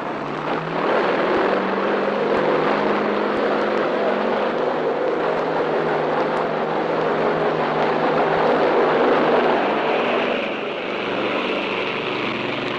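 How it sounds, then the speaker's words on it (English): A loud, steady engine roar with broadband rushing noise fills the scene, an S-2F Tracker prop aircraft powering up and launching from an aircraft carrier, constant throughout with a slight shift near the end. "An S-2F tracker is launched."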